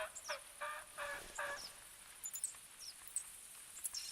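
Wild turkeys gobble in the hunting game theHunter Classic, several faint, distant bursts of gobbling repeating through the first half before thinning to scattered quieter calls over a hushed outdoor background.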